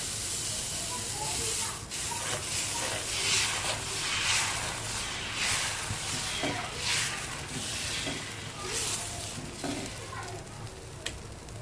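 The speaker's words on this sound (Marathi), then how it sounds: "इथे मी डोसाचा तवा घेतला आहे तो छान गरम झाला आहे आता टाकूया त्यावर आपलं बेटर" Dosa batter sizzles and hisses on a hot dosa tawa, a steady close crackle with a few brief spatula scrapes, no talk over it.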